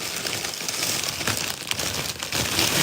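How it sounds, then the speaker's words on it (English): Bubble wrap envelopes are handled up close, giving continuous crinkling and rustling plastic with brief louder crackles and no talk. "So I have got these bubble wrap envelopes"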